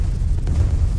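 Artillery battery tower firing in the Bloons TD 6 video game, a short deep booming blast with low rumble, loud and close, alone without talk.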